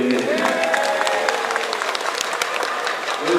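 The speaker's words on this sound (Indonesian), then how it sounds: "Tepuk tangan buat Ibu dan Ibu." An audience at an Indonesian political gathering claps, steady dense applause at moderate distance with a voice speaking faintly over it.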